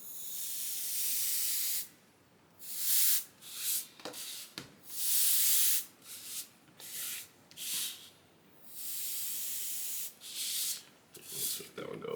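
Compressed air can blasting ink across paper for abstract art, heard as repeated bursts of close, loud hiss separated by short pauses, some sprays brief and others stretched longer.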